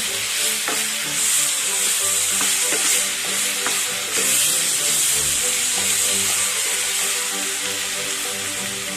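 Precooked beef being stir-fried in a pan for Kerala-style beef ularthiyathu gives a loud, continuous sizzle and hiss, with repeated scraping and clacking of a spatula stirring the meat throughout.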